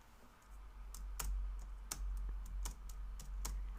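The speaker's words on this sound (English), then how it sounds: "I can hear them typing their comments." Keys on a computer keyboard click in an irregular run of light taps over a low steady hum, fairly faint and with no one talking.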